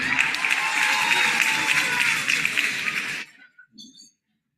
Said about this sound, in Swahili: Tupigie makofi zawadi.